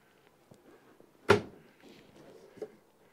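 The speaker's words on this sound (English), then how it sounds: "Nice full extension on your drawers." One cabinet drawer in a 2017 Jayco Eagle 330 RSTS travel trailer, a full-extension self-closing drawer, shuts with a single firm thunk, surrounded by fainter knocks and shuffling in a quiet interior.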